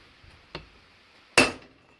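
A socket is knocked onto a Chevrolet Matiz wheel stud to drive it in: a faint light tick, then one sharp, louder metallic tap with a short ring, in a quiet workshop.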